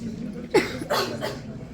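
A short, dry cough comes in a couple of quick bursts, close up and fairly quiet, with no talking.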